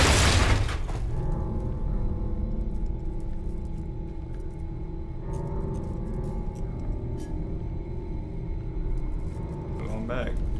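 Low thunder in the video game Silent Hill 2 begins with a loud crack, then settles into a sustained deep rumble that stays steady throughout.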